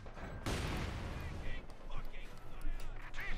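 Mortar shells from Company of Heroes 2 pound a machine gun position, a loud blast opening into sustained rumbling gunfire with scattered pops, heard under a commentator's voice.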